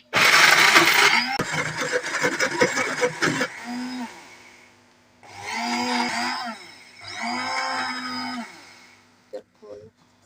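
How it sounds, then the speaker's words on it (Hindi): An electric grinder whirs loudly as it grinds soaked dal maash lentils into paste, in three bursts: a harsh, dense run at the start, then two steadier grinding spells separated by pauses, ending with a few short clicks. "अब बाकी बची हुई दाल भी इसमें ऐड कर देंगे और उसे फिर से अच्छे तरीके से हम ग्राइंड करेंगे।"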